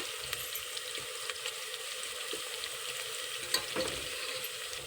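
Curry leaves hit hot oil with onions in a pan, giving a constant fine crackle and hiss that flares briefly toward the end, fairly quiet and without speech.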